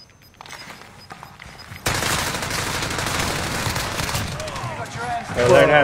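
Bursts of automatic gunfire in Call of Duty Warzone 2.0 erupt loudly after a quieter opening, sustained rapid shots filling the rest of the span amid other game sounds, swelling near the end.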